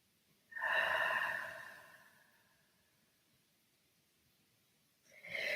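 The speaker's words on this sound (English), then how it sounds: "Focus on your deep breathing." Slow, deep breathing during a yoga session: one long, close exhale swells and fades over a couple of seconds, followed by quiet before the next breath begins.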